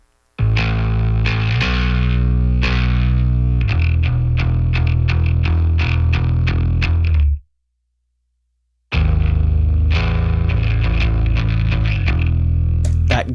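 A gritty, distorted fifth chord on bass guitar, played in a repeated rhythmic riff with heavy low sustain. The riff stops briefly, then returns just as loud and thick.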